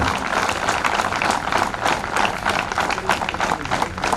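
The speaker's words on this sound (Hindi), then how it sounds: "जोरदार तालियां को प्रदान कर उनका सम्मान करें" An audience claps steadily and loudly at a CISF evening event in Jayapur, honoring CISF jawans, with dense, sustained applause filling the space throughout.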